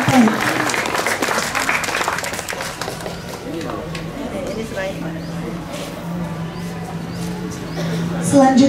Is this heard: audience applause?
yes